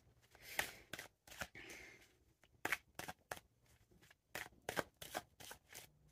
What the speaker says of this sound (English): just as I'm shuffling the cards